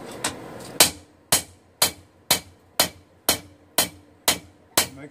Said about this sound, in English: Make sure that your hammer orientation and blows